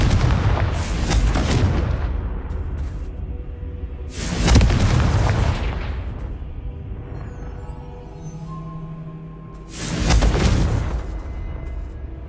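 Fiery spell explosions from the Hogwarts Legacy Confringo curse: three loud booming blasts, each with a rumbling tail, spaced a few seconds apart over a steady low game ambience.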